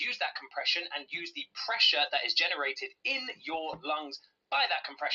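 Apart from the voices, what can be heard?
No distinct noise like a dog, phone or traffic.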